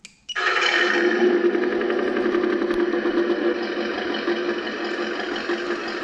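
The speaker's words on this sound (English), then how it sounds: "This is a generic V8 sound that the sound files came with." Generic V8 engine sound from the sound module in a Redcat RC truck, a 53 Chevy Hauler, starting with a quick crank and settling into a steady, loud, rumbling idle with a fine rapid pulse, heard alone and close.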